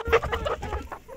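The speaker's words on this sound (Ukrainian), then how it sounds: "Де мій півень?" A rooster in a backyard flock gives short, close clucking calls, a few quick fowl vocalizations with no full crow.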